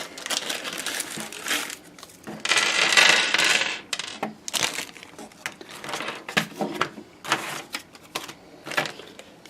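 Screws being removed during a PC build make a run of small metallic clicks, rattles and scrapes, with bursts of handling noise close by and irregular in rhythm.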